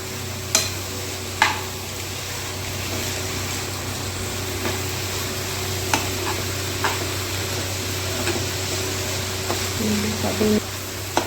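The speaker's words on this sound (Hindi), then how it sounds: "अच्छे से मिक्स कर लेंगे हम इसे" Whole green moong dal stirred into masala in a pan, a soft steady sizzle under scattered spoon knocks and scrapes against the vessel, close and fairly quiet.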